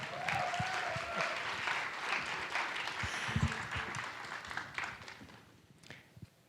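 An audience applauds to welcome guests on stage, a full sustained round of clapping that fades out toward the end.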